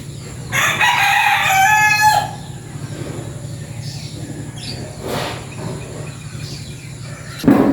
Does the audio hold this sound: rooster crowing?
yes